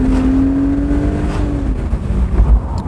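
A BMW Z3 3.0i roadster on a New Zealand road kicks down and accelerates, the engine note rising steadily and then easing, heard from inside the car with road rumble underneath.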